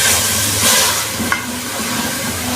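Vegetables and mince with chili sauce and soy sauce are stirred in a hot pan, giving a loud, steady sizzle and hiss close up, with a brief scrape midway.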